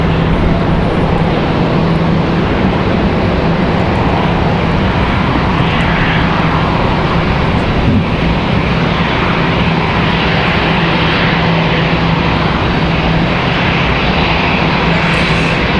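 An Airbus A321 jet rolls out after touchdown at Raleigh-Durham International, its engines a steady, loud broadband roar that holds without a break throughout.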